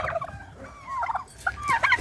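A turkey gobbling close by among a large flock of farm turkeys, a quick rattling gobble followed by further warbling calls, loud and clear.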